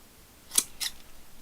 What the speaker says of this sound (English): And these are just regular stainless steel scissors I'm using.